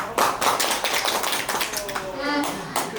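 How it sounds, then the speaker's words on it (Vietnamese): Clapping and tapping from guests at a Vietnamese wedding reception, a burst of fairly close applause, while a voice speaks over it. "Một tràng pháo tay thật lớn để chúc mừng"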